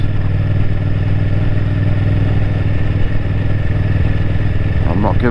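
A motorcycle engine runs close by at a steady, even idle with a low throbbing hum, and a brief voice surfaces near the end.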